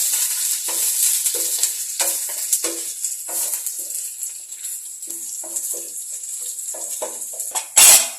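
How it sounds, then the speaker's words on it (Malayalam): Curry leaves stirred into a hot frying pan with half an onion, a continuous crackling sizzle broken by repeated spatula scrapes against the pan. "കറിവേപ്പില ഇട്ട് ഒന്ന് മിക്സ് ചെയ്ത് കൊടുക്കുക."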